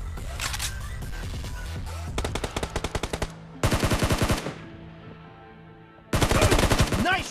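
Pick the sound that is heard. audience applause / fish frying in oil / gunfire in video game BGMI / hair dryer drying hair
gunfire in video game BGMI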